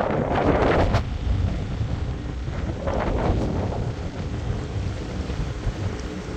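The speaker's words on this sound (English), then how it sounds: "Boy, that wind is kicking." Strong wind buffets the microphone while a barrel boat cruises at about 4.5 mph on open water, a loud continuous roar with gusty swells throughout and no talking.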